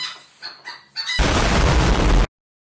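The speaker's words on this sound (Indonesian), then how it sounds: "ada ayam di sini dan lumayan bising" Chickens cluck and a rooster crows loudly nearby, followed by a harsh burst of noise that cuts off abruptly.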